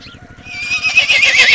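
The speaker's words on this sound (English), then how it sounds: "That's right, I'm a horse, trotting gracefully all around." A horse gives a single loud, close whinny that rises and wavers over about a second and a half, its quavering neigh growing stronger toward the end, alone with no talk.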